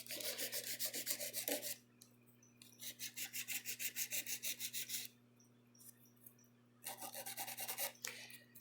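An acrylic nail is filed and tapered near the cuticle in short rhythmic rasping strokes, coming in three bursts separated by brief pauses, close and fairly soft.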